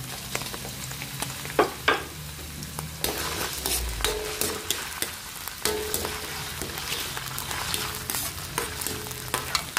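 Mushrooms and tuna frying in a pan for tuna pasta, a continuous crackling sizzle broken by repeated clinks and scrapes of a utensil against the pan; no speech.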